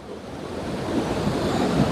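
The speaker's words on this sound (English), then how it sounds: "the river is really noisy" A loud, noisy river rushes steadily and continuously close by, a dense broadband roar with no voices over it, swelling slightly toward the end.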